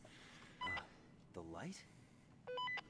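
Phone keypad tones dial channel 3 in The Blair Witch video game, two short bursts of steady beeping separated by a gliding electronic sweep, with a voice speaking briefly between them.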